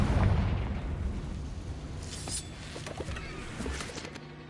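A Confringo fire spell explodes in Hogwarts Legacy with a loud, rumbling boom at the start, then a crackling, fiery tail that fades over a few seconds with softer bursts.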